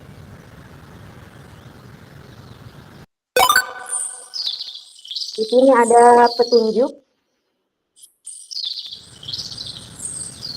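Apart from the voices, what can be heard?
recorded birdsong played in a webinar presentation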